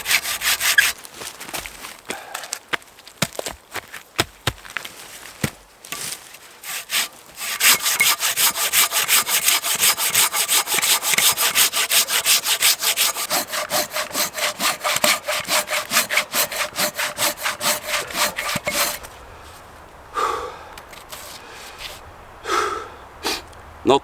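A hand saw cuts through a wooden log outdoors in the woods, with steady rapid back-and-forth rasping strokes for most of the clip. The sawing is loud and close, then stops and leaves a few quieter knocks and rustles.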